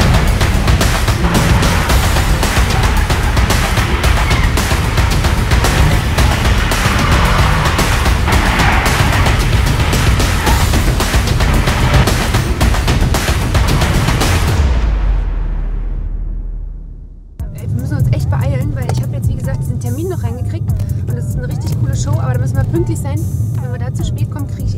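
A Mercedes-AMG C63 S roars loudly and continuously up close, with dense crackling bursts, then the noise drops away before a lower, steadier drive resumes while a voice talks over it.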